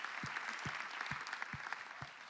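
Brief round of audience clapping for a songwriter at a songwriting session, a soft, fairly distant patter of many hands with a few louder individual claps standing out, lasting just over two seconds.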